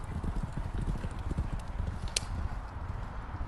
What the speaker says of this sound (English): Three horses working very nicely there.